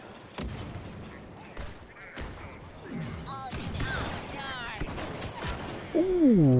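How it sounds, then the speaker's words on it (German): In Star Wars Battlefront 2 a thrown grenade goes off amid a busy firefight, with sharp blasts and thuds, scattered gunfire and a sweeping whine near the end, while someone talks in German between the hits. "Einfach mal eine Granate da oben rein."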